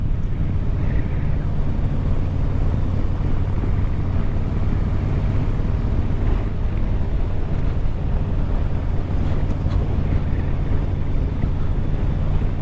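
Heavy wind rushes over the microphone while a Yamaha Vmax motorcycle cruises at just over 40 on a road, with the engine's low drone buried under constant loud buffeting.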